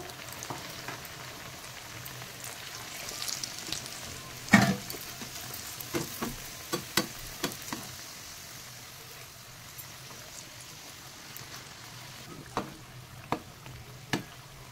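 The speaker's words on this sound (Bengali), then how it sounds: "আমার চিকেন প্যাটিসগুলো সব পুর ঢোকানো হয়ে গেছে, আর আমি এক এক করে ভাজবো" Stuffed chicken patties fry one by one in hot oil over a low flame, a soft steady sizzle broken by scattered sharp pops and crackles, with no one talking.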